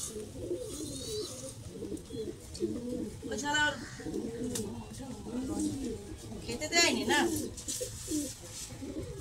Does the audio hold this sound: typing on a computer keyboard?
no